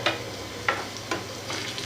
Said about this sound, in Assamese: এনেকৈ অকণমান বেচনৰ পিঠাগুড়ি দি ভাজি ল'লে খায়ো ভাল লাগে